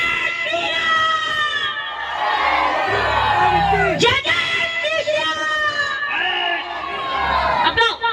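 A large crowd at a bhajan program loudly chants and cheers in unison, with voices rising in repeated bursts, whoops and shouts, and an amplified accompaniment thumping underneath.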